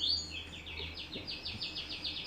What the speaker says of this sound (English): there's a bird in the background